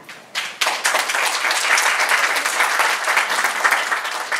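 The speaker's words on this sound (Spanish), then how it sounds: "Recibamos con un fuerte aplauso" A crowd at a peace march event in Guayaquil applauds loudly to welcome a singer, starting with a few claps and quickly swelling into sustained, dense clapping that carries to the end.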